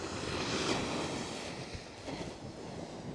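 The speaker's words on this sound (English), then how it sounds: "Ooh, you heard those waves?" Ocean waves wash onto a snowy beach at Coney Island, Brooklyn, in winter, heard as a steady roaring surge with heavy wind buffeting the microphone and no talking.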